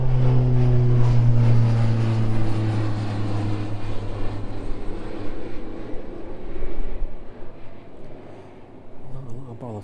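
A departing aircraft taking off at East Midlands Airport, a loud steady engine roar with a low droning tone that gradually fades as it climbs away into the distance.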